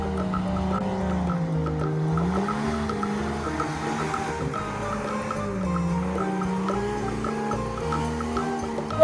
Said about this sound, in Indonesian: Nah, kalau yang ini adalah mobil off-road.